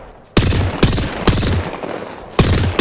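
Loud, close video game gunfire in several rapid automatic bursts separated by short gaps.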